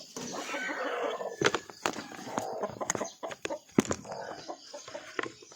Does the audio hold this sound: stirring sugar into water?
no